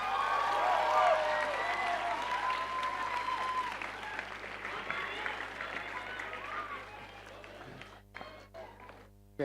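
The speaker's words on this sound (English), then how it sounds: "Let's give this wonderful team a huge round of applause again." A large audience applauds a cast after a university staging of Julius Caesar, steady and loud at first, gradually thinning out, with some voices and cheers mixed in before it fades near the end.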